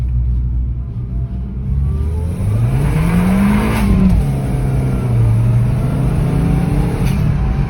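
A Ford Focus accelerates on a road near a roundabout, its engine note rising and falling in a steady, loud drone with no talk over it.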